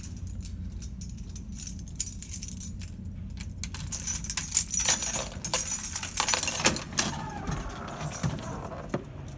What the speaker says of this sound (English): Just have to get out my keys here and unlock the door.